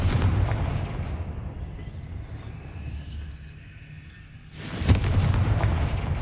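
A Confringo blasting spell explodes in the Hogwarts Legacy game, with a loud sustained rumbling blast, a quieter lull, and then a sharp second burst near the end, with no talk.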